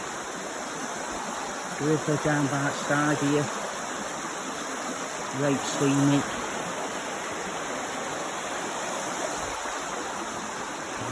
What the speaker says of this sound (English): River down by the side here.